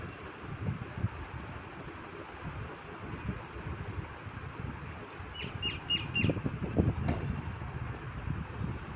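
Evening birds on a rooftop terrace, including mynas, give a few faint chirps and squawks over steady wind noise, with a short burst of calls midway and no talking.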